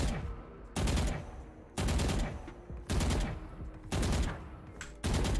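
Bursts of gunfire from the tactical shooter game Valorant, five sharp loud volleys in a steady rhythm with brief gaps between them, close and alone with no talk.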